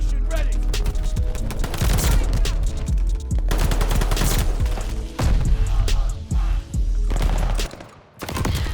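Rapid bursts of assault rifle fire from Call of Duty Vanguard, loud and dense, with repeated cracking shots layered over game noise and brief gaps between volleys.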